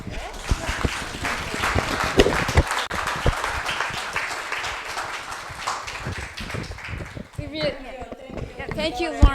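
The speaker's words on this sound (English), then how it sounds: "Let's do a round of applause." A round of applause from the audience at an artist talk: brisk, fairly close clapping for most of the stretch, fading as a voice begins speaking toward the end.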